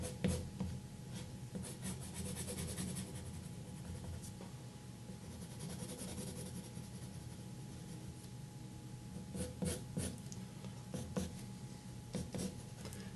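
Pencil scratching quick, rough strokes on paper while drawing fur, a faint continuous rasp with occasional sharper flicks, close up under a low steady room hum and no speech.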